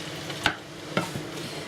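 Leftover roast dinner vegetables with cabbage stirred in a hot pan, a steady close sizzle with two distinct scraping stirs of the utensil against the pan.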